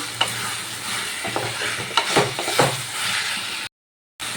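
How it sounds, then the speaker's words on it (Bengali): Marinated chicken pieces stir-fried in masala for a Kasuri chicken dish, a loud steady sizzle with repeated scraping spoon strokes close up, then a brief cut to silence near the end. "এবার আমি মশলার সাথে চিকেনটা ভালো করে কষিয়ে নেব"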